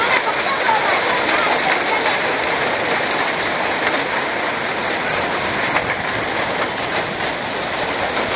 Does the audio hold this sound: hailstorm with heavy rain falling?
yes